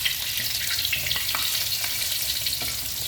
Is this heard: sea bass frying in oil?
yes